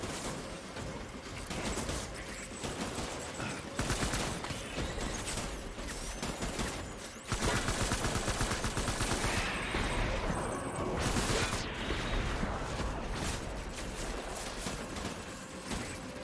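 Video game gunfire bursts in dense, overlapping volleys, loud and close, with rattling shots and a heavier barrage in the second half under a busy game soundscape.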